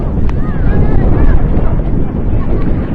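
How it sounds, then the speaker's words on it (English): A strong gust of wind buffets the microphone at an outdoor softball game, producing loud, continuous low rumble and roar that fills the whole stretch; a faint voice is partly buried underneath. "As a strong gust of wind hits us all"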